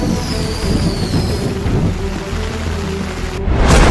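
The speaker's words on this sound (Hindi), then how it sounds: "आसमानी आफत, बारिश बेहिसाब" Heavy monsoon rain pours steadily during a downpour in Rajasthan, a dense continuous hiss and patter that swells slightly louder toward the end, with no voices.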